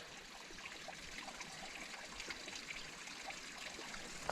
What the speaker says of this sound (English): it's nice to see and hear the little stream